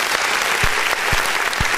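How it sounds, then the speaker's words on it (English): A crowd applauds steadily throughout, a thick sustained roar of clapping with a few low thumps standing out beneath it. "we're going to give him a round of applause"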